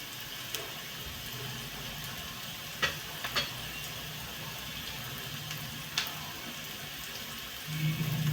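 Onion frying in a pan with salt added, for a katval bhaji: a quiet, steady sizzle runs throughout, broken by a few light clicks and scrapes of stirring.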